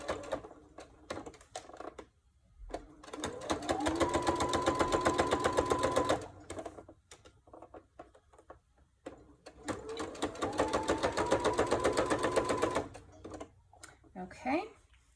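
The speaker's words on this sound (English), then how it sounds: "We're going to sew straight through that." A domestic sewing machine stitches straight through ribbon trim in two sustained whirring runs of several seconds each, close and clear, separated by quieter clicks and handling noises.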